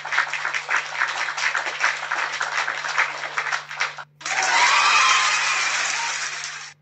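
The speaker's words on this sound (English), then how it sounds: "Let me give him a round of applause for that." An audience claps and cheers, first in uneven, pulsing bursts, then after a brief gap in a dense, loud, sustained roar of applause that slowly fades.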